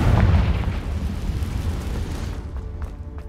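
A loud, close blasting spell explosion in the game Hogwarts Legacy, a heavy low boom that hits at once and then rumbles and fades over a few seconds.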